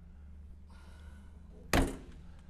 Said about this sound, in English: Door, again, closes good.